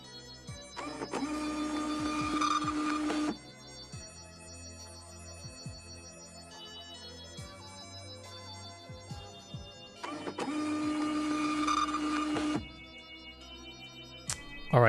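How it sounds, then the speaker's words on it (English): A receipt printer runs in two loud bursts of buzzing, whirring feed with a steady high tone, each lasting about two seconds, separated by quieter background sound and ending with a short click. "Printer receipt."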